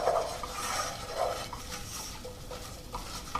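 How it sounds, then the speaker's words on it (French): Flour cooking into melted butter in a pan, stirred with a utensil: soft scraping and light clinks against the pot, a gentle, close, uneven rhythm with no talking. "Je vais y ajouter donc la farine que je vais faire bien cuire pendant 20-30 secondes"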